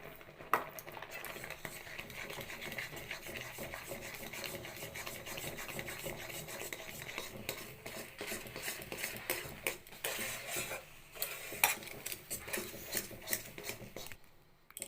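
Cooked semolina being mashed and mixed in a pot for Odisha-style manda pitha, with faint continuous rubbing and scraping at close range and no talking.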